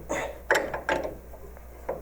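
Wrenches working the nut on a front spring compressor tool for Triumph TR2 to TR6 cars, giving a few short metallic clicks and ratcheting clanks, close and spaced irregularly, with no voice.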